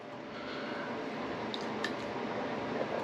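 Shaving brush working a lather from Pasteur shaving soap, a soft continuous wet squishing and swirling close by, fairly faint, with no talk.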